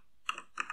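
A computer keyboard is typed on in two short close bursts of clicking, entering a name server address, with no talk.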